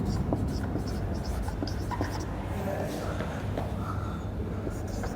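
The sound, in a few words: writing notes during a lecture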